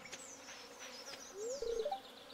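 Mosquitoes in Stardew Valley, a faint thin insect whine drifting in pitch, joined near the end by a brief chirping tone.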